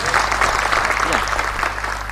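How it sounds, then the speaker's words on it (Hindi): Applause from a seminar audience, steady and dense clapping filling the room with a faint voice and a low hum underneath. "जोरदार तालियां थोड़ी जोरदार होनी चाहिए"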